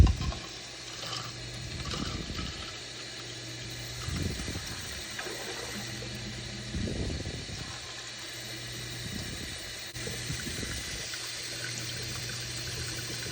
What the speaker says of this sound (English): using the bulb syringe, we'll draw up some ink and flush it out